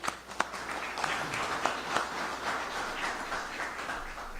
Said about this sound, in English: Give yourselves a round of applause on that